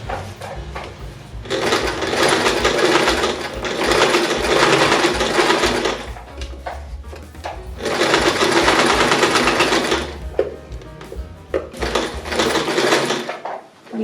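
A sewing machine stitches a zipper seam in fabric, running in three loud, steady bursts of rapid mechanical whirring with short pauses between them, close and clear.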